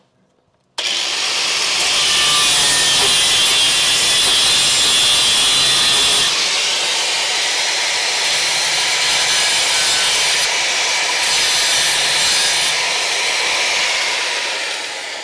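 Loud continuous power-tool grinding on a car frame rail, cleaning up cut edges before welding on a Crew Cab Charger, running steadily for about fourteen seconds with slight shifts in pitch.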